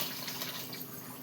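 Water poured into a cooking pot: a brief, soft, steady splashing rush with no voices over it.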